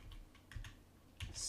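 Letters typed on a computer keyboard: a few quiet, separate key clicks spread out, then a slightly louder burst of keystrokes near the end, with no talking.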